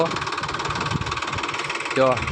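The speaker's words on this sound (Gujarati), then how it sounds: "પપ્પાએ જો ટ્રેક્ટર ચાલુ કરી દીધું છે" A tractor engine idles steadily on a farm at sowing time after rain, a close, continuous mid-pitched rumble with a throbbing rhythm. A brief voice-like sound cuts in near the end.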